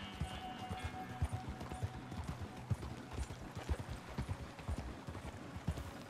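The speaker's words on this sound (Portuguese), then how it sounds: "assistimos uh, o cavalo a andar de um lado para o outro" Horse hooves clip-clop at a walk in the Western video game Red Dead Redemption II, a steady, fairly faint rhythm of soft hoof falls with light background game ambience and no talking.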